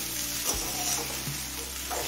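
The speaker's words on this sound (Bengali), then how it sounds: "চিংড়িটা দিয়ে আরো 2-3 মিনিট ভেজে নিলাম" Shrimp, figs and potatoes fry together in a pan, giving a steady close sizzle broken by a few scraping stirs of a spatula, with no voices.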